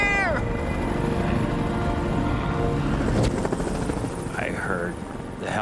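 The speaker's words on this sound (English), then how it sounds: "I heard the helicopters come back. It was so loud, I knew they were so close." Rescue helicopters approach over a ridge above a cliff ledge, their loud rotor thrum near and continuous throughout, with voices calling out beneath the roar.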